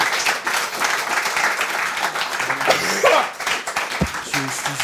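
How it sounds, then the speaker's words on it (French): Applause from an audience at a live French stage show, clapping that swells and dips with some crowd noise and a few voices mixed in, plus a sharp knock near the end. "On les applaudit."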